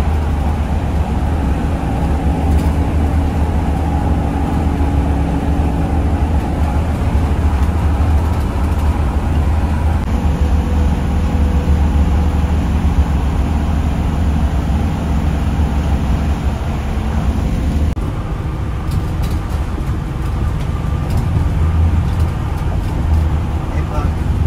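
Steady low road rumble from a car on a highway road trip, continuous and fairly loud throughout, with people talking over it.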